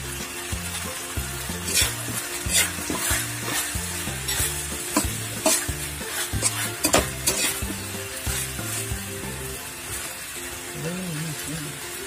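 Kare kare stirred in a frying pan, a spoon scraping and clinking in a repeating rhythm over a constant sizzle, close and fairly loud, with someone speaking in between.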